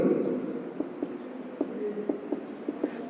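A pen scratches out a switching table, with a steady run of close, soft strokes and several sharp taps as marks are made.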